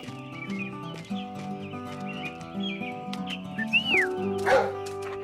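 A large dog in the animated cartoon Cédric gives short barks and whines over a light musical score, with a sharper yelp standing out near the end.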